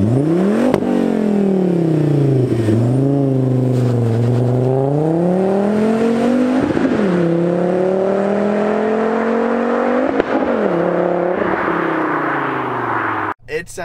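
A Volvo V70R engine fitted with an aftermarket exhaust revs loudly and up close, its pitch rising and falling through several sustained pulls over about fourteen seconds, with no speech over it.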